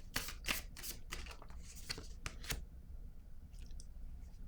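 Tarot cards being shuffled and drawn by hand, a series of sharp riffling and flicking bursts up close, followed by quieter, sparse card handling.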